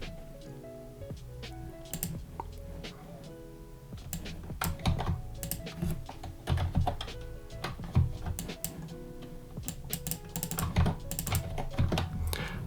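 Rapid, irregular clatter of keys on a computer keyboard as Flutter code for a WhatsApp-style app is typed, close and crisp, with short pauses between bursts and no voices.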